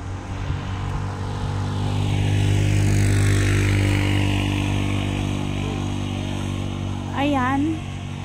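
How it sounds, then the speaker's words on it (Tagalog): A motorcycle engine hums steadily close by, swelling in the middle and then easing off, with a brief voice-like sweep near the end. "Ayan, ang aming motor."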